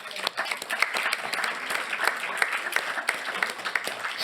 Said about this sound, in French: je crois qu'on pourrait l'applaudir